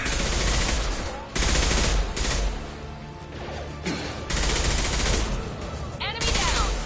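Rifle fire in the sci-fi shooter Mass Effect 2, loud repeated bursts of shots broken by short pauses, with impact crashes and combat noise throughout.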